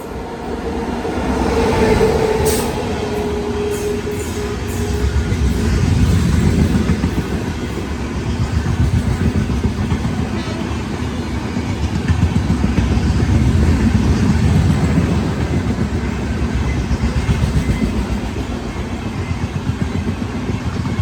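Dadar Jodhpur Express passenger train at Patan railway station in Gujarat, a steady loud rumble of rolling wagons with rhythmic wheel clatter throughout, no talking.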